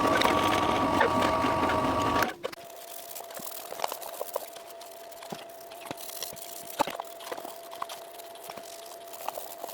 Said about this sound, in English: I'm going to drill some very small pilot holes, I think 1mm diameter for each of these